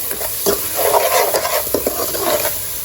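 Masala and turmeric stirred in a kadai for biryani, with close, steady scraping and stirring strokes over a bright, continuous sizzle of frying spices, loud and without talking.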